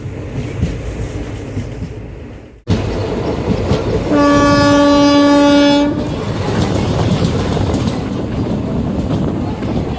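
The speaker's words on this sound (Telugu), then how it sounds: "ఈ ట్రైనే అరుణాచలం వెళ్ళే ట్రైన్." A train horn sounds at Katpadi Junction from a train bound for Tiruvannamalai, one loud steady blast of about two seconds over continuous rumbling rail noise after an abrupt cut.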